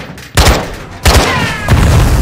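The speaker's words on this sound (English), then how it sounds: "Grenade!" Loud booming blasts in a realistic first-person shooter game, three heavy explosive bursts in quick succession, each hitting hard with a rumbling tail and close by.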